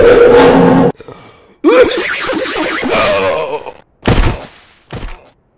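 A cursed weapon fires in CS:GO: a loud opening burst, then a sharp, chaotic stretch of warbling, sweeping noise, followed by two short loud bursts near the end with gaps of near silence.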